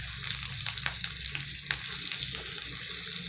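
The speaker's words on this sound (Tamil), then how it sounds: "இதோட இப்போ நான் காஞ்ச மிளகாவும் சேர்த்து வதக்கிக்கிறேன்" Dried red chillies sauté with pirandai in a pan, producing a bright continuous sizzle with small crackles and a few soft stirring clicks, close by and without speech.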